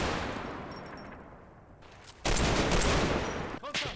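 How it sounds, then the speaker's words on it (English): Gunfire from a house in the Combat Mission wartime strategy game, heard as a dense, crackling fusillade of rifle and machine-gun shots that fades, then surges back loud and close. "I'm also receiving fire from the house centre right."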